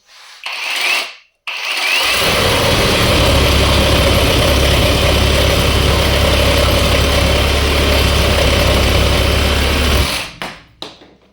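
A GTM RS18/150BL cordless reciprocating saw runs steadily for about eight seconds with a loud, close, buzzing mechanical whine, starting abruptly after a short burst and stopping cleanly, with brief rattles before and after.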